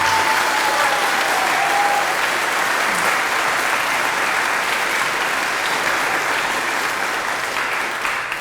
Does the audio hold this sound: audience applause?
yes